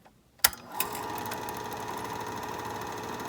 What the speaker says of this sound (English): okay, so the motor is clearly turning